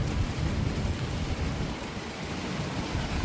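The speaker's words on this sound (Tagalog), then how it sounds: "ang lakas pa rin ng ulan, kidlat, kulog, pambihira" Heavy rain pours steadily during a thunderstorm with strong wind, a dense, loud wash of noise with deep low rumbling underneath, continuous for the whole stretch with no voices.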